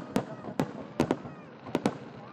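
Several sharp firework bursts pop at irregular intervals, two close together near the end, over a steady murmur of background noise, at a centennial celebration of the Okozu Diversion Channel in Niigata.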